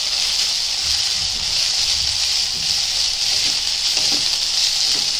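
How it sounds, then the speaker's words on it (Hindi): Ginger garlic masala fries in a pan for a potato and pea sabzi, giving a loud, close, continuous sizzle with steady hiss and crackle and no talking. "अदरक लहसुन की कच्चापन जाने तक इसको पकाएंगे।"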